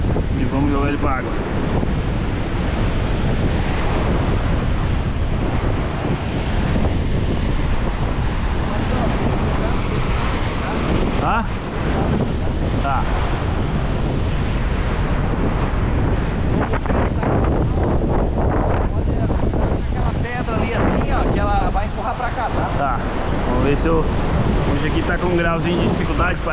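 Strong wind buffets the microphone on a rocky seashore during live-shrimp sea bass fishing in Santa Catarina, Brazil, a steady loud roar with surf mixed in throughout, gusting unevenly.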